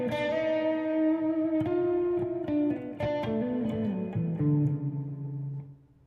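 Electric guitar runs through a gated reverb pedal: a string of distorted notes with a shimmering reverb tail that is cut off abruptly at the end of each phrase and then at the close.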